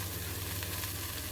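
Masala for a Bengali fish curry sizzles in a pan as it is sautéed, giving a steady, even frying hiss with no talk.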